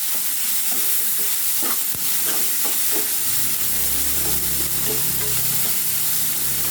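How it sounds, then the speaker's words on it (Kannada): Chopped onions sauté with salt in a hot pan while cooking moong dal with spinach, giving a steady close sizzle broken by scraping stirs of a spoon, with no one speaking. "ಉಪ್ಪು ಸೇರಿಸಿ ಚೆನ್ನಾಗಿ ಬಾಡಿಸಿ"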